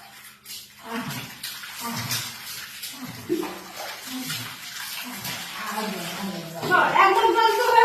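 Water is poured over a child at bath time, splashing and gushing in uneven bursts near at hand. People talk throughout.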